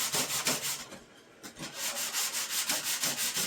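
Rhythmic abrasive rasping of sandpaper scrubbing back and forth over metal car louvers, steady strokes repeating with one brief pause, close and fairly loud.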